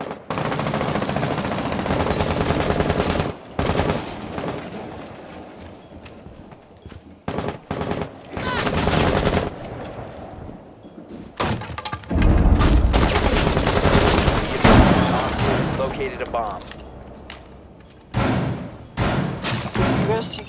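Gunfire from the Rainbow Six Siege multiplayer game on the Chalet map, with loud repeated bursts and shots in irregular clusters, booms and thuds, over game sound and voices.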